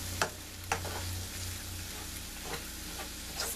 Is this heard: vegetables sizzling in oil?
yes